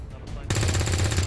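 A burst of rapid gunfire erupts halfway through, loud and sustained, from a flank shot in the modded tactical video game XCOM 2 Long War 2, after a quieter lead-in.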